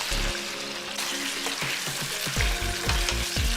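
Potatoes and fenugreek leaves are stirred in a hot pan, a spoon scraping in quick repeated strokes over a steady close sizzle of frying.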